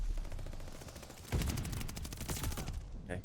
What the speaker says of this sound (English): let's battle with the mortars again